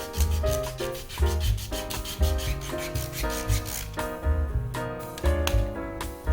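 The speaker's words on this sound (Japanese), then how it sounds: "ヤスリで整えます。" Repeated rhythmic rasping strokes of a file scrape back and forth over a wooden ruler board's trimmed corner, steady and close, with no voices.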